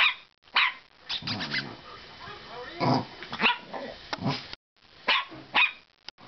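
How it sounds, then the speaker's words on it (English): Dogs bark and yip excitedly in short bursts, close and loud, with some growling and brief pauses between outbursts. "the dogs are excited that Santa Claus is coming"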